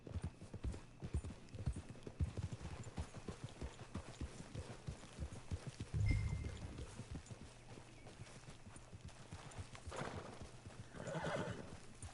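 A horse in a video game trots along with steady, close clip-clop hoofbeats. A whinny breaks in around the middle, then the even rhythmic hooves continue.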